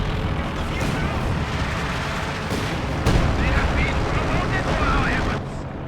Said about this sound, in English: caught in incendiary artillery barrage, the crew burning up and fusing to the anti-tank gun itself